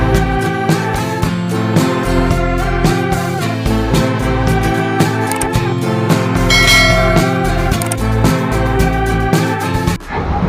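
Layered bell tones ring out over dense, loud music, with repeated struck chimes through the whole stretch and a brief bright shimmer near the middle.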